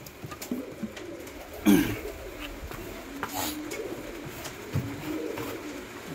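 Pigeons coo softly inside a pigeon loft on a rainy day, their faint low calls half buried in a constant wash of hiss, with one or two louder bumps.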